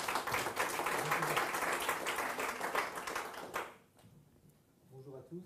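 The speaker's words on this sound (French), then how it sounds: "on peut l'applaudir" Conference audience applauding a speaker introduced as director of a mental health facility in Paris-Ivry, dense steady clapping for about three and a half seconds before cutting off to quiet room tone with faint voices.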